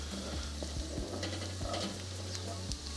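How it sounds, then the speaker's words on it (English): Onions tossed in bacon fat and butter in a skillet, a soft steady sizzle with a few light scrapes and taps of stirring, fairly quiet, no voices. "Mix them around to coat them in the bacon fat and the butter."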